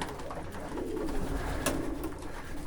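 Homing pigeons coo softly and repeatedly in low, throaty murmurs over a quiet outdoor background, with a brief sharp noise midway.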